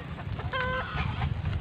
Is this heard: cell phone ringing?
no